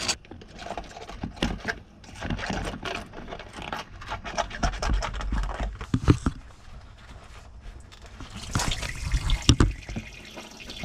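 Water drains from the block of a Mercruiser inboard boat engine during winterizing, a steady splashing trickle with scraping and clanking as drain plugs and caps come off, loudest near the end.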